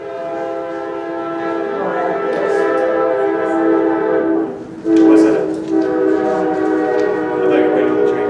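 A train sounds a loud, sustained multi-tone horn as it passes near a Delphi council meeting, the blast swelling and dipping over several seconds with rail rumble beneath and a brief spoken question.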